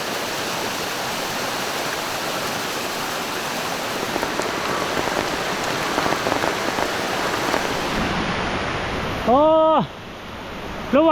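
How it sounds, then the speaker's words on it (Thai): Heavy rain pours steadily near a jungle waterfall during a fishing trip, a dense, loud hiss of water filling the whole scene; near the end a voice briefly speaks over the downpour. "ฝนตกหนักมาก"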